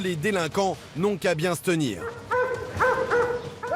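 A police dog working alongside its handler on a patrol in Bussy-Saint-Georges, France, gives a few short close barks and yips in the second half, after a voice talks over the opening.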